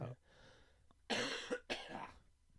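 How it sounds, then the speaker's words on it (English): A person with a bad cough coughs twice in quick succession after a faint throat sound, close to the microphone with no talking. "slowly recovering from a bad cough"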